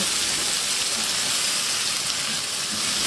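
Onion, ginger-garlic paste and sliced green chilies sizzle in oil in a pan, a steady broadband hiss and crackle that holds evenly throughout with no voices.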